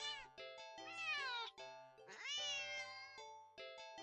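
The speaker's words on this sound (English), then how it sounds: "the cat meows sharply at you" A stray cat meows sharply several times, loud and close, with long drawn-out whining calls that rise and bend, separated by brief pauses, and no talking.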